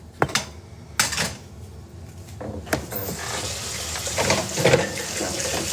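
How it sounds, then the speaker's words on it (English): Tap water runs into a kitchen sink while bowls are rinsed, with dishes clinking and knocking in a few sharp hits between steady splashing that swells louder toward the end. "rinse out your bowls so we can make the filling"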